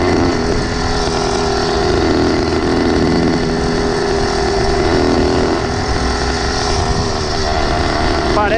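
Small engine of a motorized 20-inch mini bike revving steadily, a loud close buzzing drone held without letup, with a voice speaking underneath.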